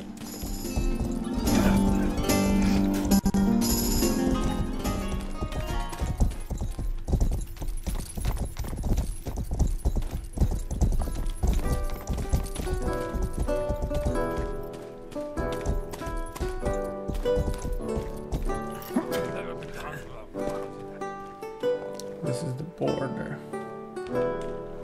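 Steady clip-clopping horse hooves in the PC game Rustler, running continuously under a busy layer of music and game sound, loud and close throughout.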